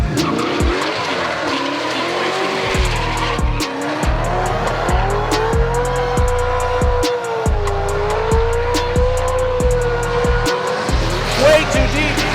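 A drift car at a professional drift series event spins out, its tires squealing loudly and continuously over a roaring, revving engine, with an announcer talking excitedly over the racket.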